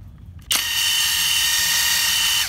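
A replica Makita DTW285Z 18-volt brushless cordless impact wrench spins up at full power and holds a loud, steady high-pitched motor whine for about two seconds, then cuts off.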